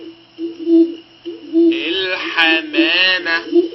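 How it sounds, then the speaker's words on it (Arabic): A pigeon gives a few low, hollow, hoot-like coos in a slow rhythm, then a voice starts talking over and after the last coos. "صوت الحمامة"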